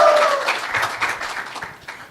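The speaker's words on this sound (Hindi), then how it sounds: "मोदी जी के लिए ताली बजाइए साथियों" A crowd claps and cheers for Modi at a satirical comedy show, a dense burst of applause that starts loud and gradually thins out over about two seconds.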